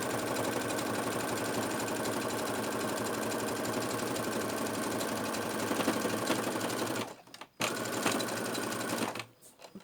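A sewing machine hums and rattles steadily while stitching an inside pocket onto a bag, the motor running continuously for several seconds before stopping briefly, starting again and then cutting off near the end.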